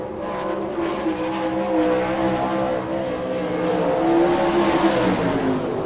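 A sprint car roars through a qualifying lap on the dirt oval at Rossburg, Ohio, its engine revving loud and close with rising and falling pitch, and no voices over it.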